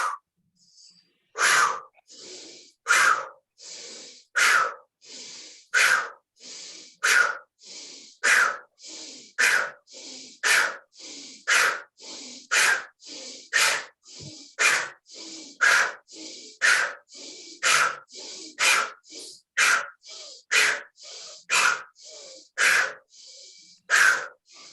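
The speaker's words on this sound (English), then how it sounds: "we're going to breathe in through our nose and out through the mouth" Forceful deep breathing repeated about twenty times in steady rhythm: each strong inhale through the nose followed by a loud, breathy exhale through the mouth, close and clear, during a guided chakra-cleanse breathing exercise.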